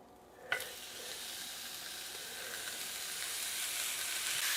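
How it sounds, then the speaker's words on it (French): Pork chops hit a very hot frying pan with a short clatter, then a steady loud sizzle that keeps building and spreads into a bright, dense hiss. "dans une poêle bien chaude, je vais faire revenir mes côtelettes de porc"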